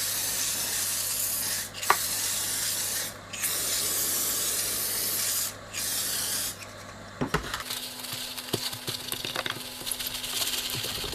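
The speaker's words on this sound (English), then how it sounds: "Just spray on some label remover to get rid of this residue." Label remover is sprayed onto a broken plastic preamp lid in several close hissing bursts separated by short pauses, followed by quieter rubbing and small clicks, with no one speaking.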